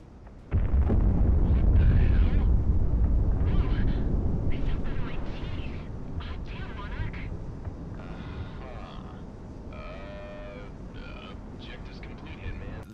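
A big bomb blast in the jet combat video game Project Wingman bursts in with a sudden heavy boom, then a long rumbling roar that slowly fades while a voice talks over the tail.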